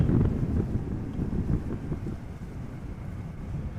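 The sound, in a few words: west-southwest wind blowing at Amsterdam Schiphol Airport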